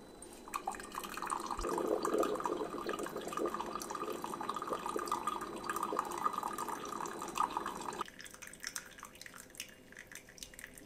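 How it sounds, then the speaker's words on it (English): A Ninja Hot and Cold Brewed System coffee maker brewing gives a loud, steady hiss and gurgle of hot water that cuts off abruptly near the end, leaving quieter dripping and trickling. "Initially when brewing, it's very loud, and then it just sounds like a"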